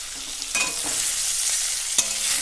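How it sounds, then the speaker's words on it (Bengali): Cut papaya and mango sizzle in hot oil tempered with panch phoron, mustard seeds and dried red chillies, a soft continuous frying hiss broken by a few sharp scrapes and clinks of stirring. "পেঁপে আর আম দেওয়া হয়েছে দিয়ে আমরা হচ্ছে দুটোকে ভালো করে কষে নিচ্ছি"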